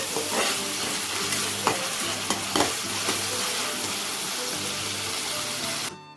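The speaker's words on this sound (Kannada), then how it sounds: "ಉಪ್ಪು ಹಾಕಿ ನೀಟಾಗಿ ಇದನ್ನು ಬಾಡಿಸ್ಕೊಳ್ಳಿ" Tomato with salt sautéed in a pan as seasoning for poha upma (avalakki uppittu), a steady sizzle and frying hiss with a few louder stirring clanks, continuous and close, with no talk.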